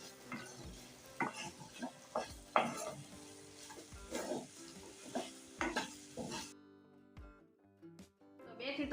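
Tindora coated in gram flour is stirred in a pan over a low flame, giving repeated scraping strokes and a soft sizzle, with faint voices in the background before the sound drops away near the end.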